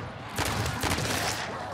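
Pistol gunfire in the video game MW3 Zombies, a rapid string of overlapping shots and impacts from about halfway in, moderately loud and continuous over a noisy game background.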